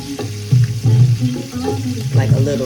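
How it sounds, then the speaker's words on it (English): Chicken livers fry in very hot grease, crackling and sizzling in uneven bursts that swell and fade, close by and fairly loud with kitchen clatter mixed in. "So now we've gotten the grease hot."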